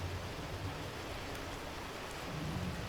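Rain in the survival video game Cataclysm: Dark Days Ahead, a steady, dense hiss of falling rain with a low rumbling undertone, continuous and even with no voices.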